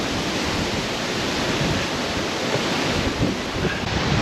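Wind roars steadily and loudly across the microphone of a cyclist rolling downhill on an exposed slope, a constant dense rush with no pauses and no voices.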